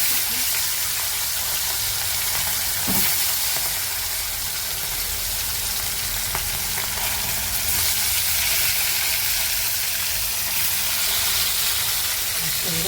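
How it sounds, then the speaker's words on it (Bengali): Rohu fish frying in hot oil with a little salt, a loud continuous sizzle that stays steady and close throughout with faint stirring or clinks now and then. "তেলের মধ্যে এবার মাছ দিয়ে"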